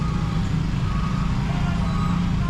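Dense road traffic rumbles continuously with trucks and cars idling and moving on a congested road near a Torajan funeral in Sulawesi, Indonesia, a loud, close, low engine drone.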